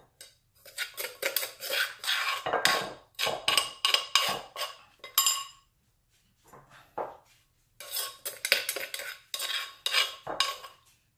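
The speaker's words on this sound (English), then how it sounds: "I will pound the peppers in" Peppers are pounded with a pestle in a mortar, bursts of rapid hard clattering strikes separated by short pauses, close and fairly loud with no talking.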